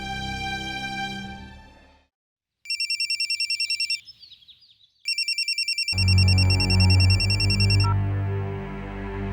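A telephone rings for an incoming call in a Hindi family drama, heard as bright repeated electronic ring bursts in two separate spells, set between passages of music.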